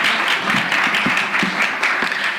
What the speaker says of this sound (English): let's give the panel an applause